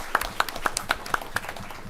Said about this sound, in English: could we give these fine folks a round of applause,